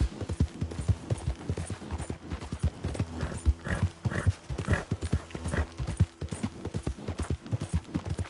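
Rapid, uneven horse hoofbeats in the video game Red Dead Redemption 2 clip-clop continuously at a steady gallop, close and prominent, with a brief whinny-like sound mixed in partway through.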